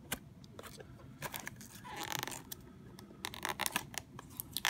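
Cardboard of a retail blister box of trading cards is torn open by hand, close up, in a series of quick ripping and crinkling bursts that build toward the end.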